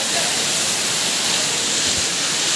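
Ashokjhar waterfall in Jajpur, Odisha, roars close by with a loud, constant, broadband rush of falling water that never lets up.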